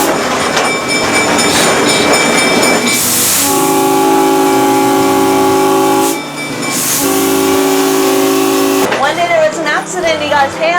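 A Hawaiian Railway Society train runs close by with loud rolling rumble and two long, steady horn blasts, then wheel and track noise as it moves on.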